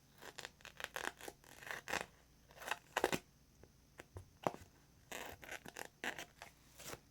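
Scissors cutting adhesive foam for a cling cushion, giving a series of short close snips and crisp scraping cuts in irregular bursts, fairly quiet, with no talk.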